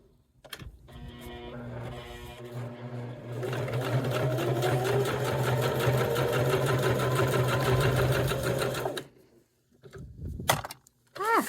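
A sewing machine stitches a cork clutch bag, running in a steady, close, even whir for about five seconds after a few brief starts, with handling clicks before and after.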